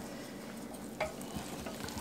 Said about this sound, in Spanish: En un sartén vamos a poner una cucharadita de manteca.